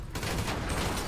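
Rapid AK rifle fire from GTA 5, a loud sustained burst of overlapping shots that starts abruptly after a brief lull and continues without break.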